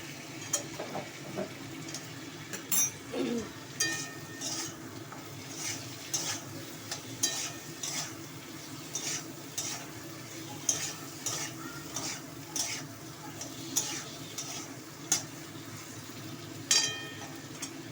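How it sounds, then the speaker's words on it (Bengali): Brinjal frying in a wok with ginger, cumin and chili paste is stirred briskly, a spatula scraping and clinking against the metal in repeated strokes over a steady close sizzle, with no talking. "আদা জিরে আর লঙ্কা বাটা সামান্য একটু দিয়ে দেবো, দিয়ে একটু নাড়াচাড়া করে নেবো।"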